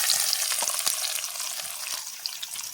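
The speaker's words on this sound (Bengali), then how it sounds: "পেঁয়াজটাকে লাল লাল করে ভেজে নেব।" Onions fry in hot oil with whole cumin, black pepper and whole spices, giving a steady crackling sizzle with scattered sharp pops and a faint stirring scrape.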